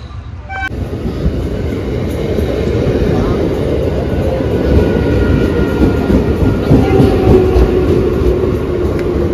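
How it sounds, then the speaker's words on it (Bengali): A Kalyani Simanta local train pulls into a station platform, its loud steady rumble and rail roar filling the scene from close by after a brief horn-like tone at the start. "চলো ট্রেন ঢুকছে, আমার পেছনে পেছনেই ট্রেন"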